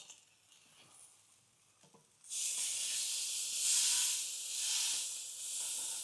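A massive 700 g ribeye steak hits a hot Weber Baby Q grill and a loud, close sizzle bursts up after a quiet start with faint handling noises, then rises and falls without talk.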